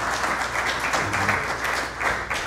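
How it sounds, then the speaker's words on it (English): A church congregation claps together during a Sunday spiritual service, a steady, moderately loud wash of applause that holds evenly for a couple of seconds. "we can clap for that"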